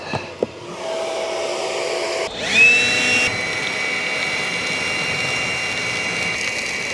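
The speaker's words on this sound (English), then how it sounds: "You could hear the blower more than anything" A DeWalt 20V cooler's blower runs steadily as a loud, even whir after being blasted with dirt and dust, with a brief clatter and a short rising whine near the start before settling into a constant drone.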